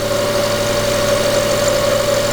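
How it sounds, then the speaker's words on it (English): A Nissan R32 Skyline engine idles with a misfire, a close, steady, loud mechanical drone with a strong constant hum and an uneven, rough undertone throughout, with no talking. "I just couldn't figure out this misfire."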